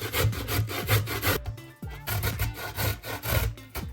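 Carrots rubbed against a hand grater for carrot cake, a steady rhythmic rasping of repeated strokes, close and fairly loud, with one brief pause partway through.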